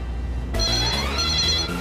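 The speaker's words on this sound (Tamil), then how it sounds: "இப்போ யாரு போன் பண்றது? போன் ரிங் கேட்டாலே பயமா இருக்கே." A telephone rings in a Tamil TV serial scene: a sudden, loud electronic ringing tone starts after a short quiet, with a warbling pattern that repeats steadily and has no voices over it.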